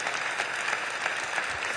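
A church congregation claps in steady, dense applause to welcome a pastor at a missions symposium, the sound filling the room evenly throughout without a break.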